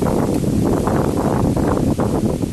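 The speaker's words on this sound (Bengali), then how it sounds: "প্রচুর বাতাস আছে" Strong outdoor wind roars steadily and loudly into the microphone after monsoon rain, a dense continuous buffeting with no talk.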